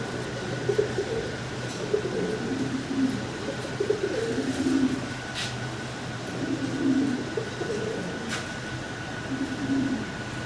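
Fancy Mundi Andalusian pigeons, a large pair, cooing in soft low repeated phrases under a steady background hum, with a couple of brief sharp clicks.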